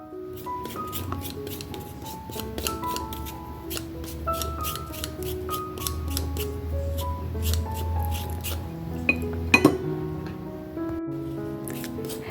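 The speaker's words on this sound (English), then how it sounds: "Now we're going to go ahead and peel the turmeric." Fresh turmeric root being peeled by hand in a kitchen, with soft repeated scraping and rustling strokes close by, a few louder knocks near the end, and faint background music throughout.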